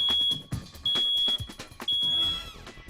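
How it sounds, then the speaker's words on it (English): A smoke alarm under test sounds a loud, shrill, repeating beep in several sharp pulses, close by, over faint background noise. "push the button on your smoke alarm to make sure it's working properly"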